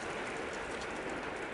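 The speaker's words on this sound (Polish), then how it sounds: "Tutaj wciąż pada deszcz." Steady rain falls in the dark side-scrolling game Limbo, a dense, even hiss of drops without pause, fairly loud and alone with no talk.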